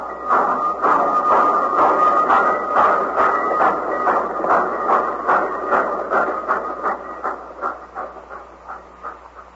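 A train rumbles steadily past, its wheels clacking in a regular rhythm over the rails, loud and close, fading slightly toward the end.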